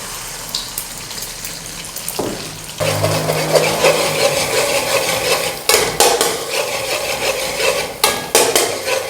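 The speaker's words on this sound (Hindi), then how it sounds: "तेल को आपने कर लेना अच्छे से गरम। 2 अंडे शामिल कर देंगे इसमें।" Two eggs frying in about 50 grams of well-heated oil for chicken fried rice, a steady sizzle with scraping and clinking of a utensil against the pan, no talking.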